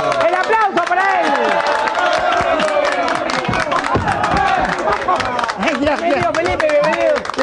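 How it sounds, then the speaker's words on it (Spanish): A studio audience on a Spanish-language comedy show claps for an arriving guest, a dense, steady patter with crowd babble and voices mixed in. "¡El aplauso para él!"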